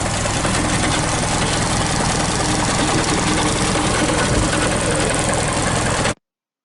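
A 1951 Citroën 11 Ligero's front-mounted longitudinal 1911 cc engine with a Stromberg carburettor idles steadily, loud and close, in an unbroken mechanical drone that cuts off abruptly near the end.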